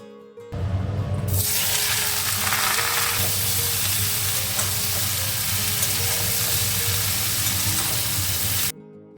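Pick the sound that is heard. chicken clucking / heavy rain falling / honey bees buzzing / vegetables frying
vegetables frying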